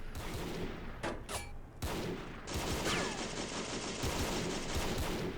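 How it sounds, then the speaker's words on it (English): Massive WW1 field cannons boom in a war video game, with heavy overlapping blasts and rolling gunfire that build into a loud, dense barrage. "Let's get on the cannons."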